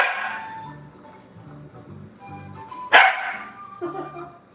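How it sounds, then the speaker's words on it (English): A dog barks sharply once, loud and close, followed by a softer bark, with quiet background sounds in between. "Stop barking."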